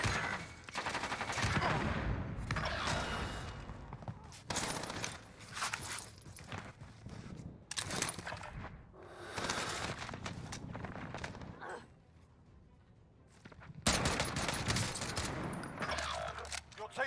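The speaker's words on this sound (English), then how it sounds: "Under hostile fire." Call of Duty Warzone firefight with the LC10 submachine gun, dense bursts of rapid automatic gunfire in repeated loud volleys, brief lulls between, with footsteps and faint in-game radio voices.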